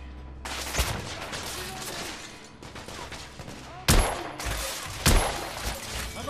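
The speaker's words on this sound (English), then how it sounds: "I'm under heavy fire!" Heavy gunfire erupts in the video game The Order: 1886: dense, rapid volleys of shots crackle continuously, punctuated by a few sharp, louder blasts close by.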